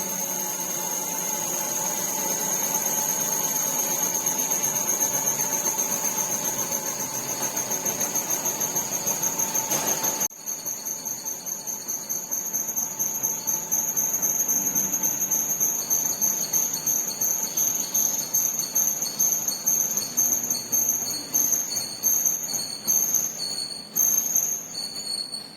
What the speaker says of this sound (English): Now you can see the motor is stopping